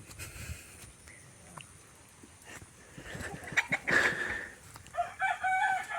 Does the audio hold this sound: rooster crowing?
yes